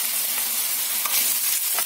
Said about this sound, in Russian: обжариваю я лук уже на сковороде своей